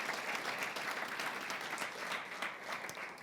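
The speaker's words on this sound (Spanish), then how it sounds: "Dale un fuerte aplauso al Señor." A church congregation claps steadily and fairly loudly, dense continuous applause that holds for the whole stretch.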